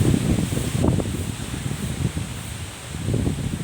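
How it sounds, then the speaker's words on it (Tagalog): Strong January monsoon wind buffets the microphone in a continuous low roar near papaya trees, with gusts rising and falling and leaves rustling; no voices. "Mahangin po rito pagka ganitong Enero, amihan na, tapos napakahangin."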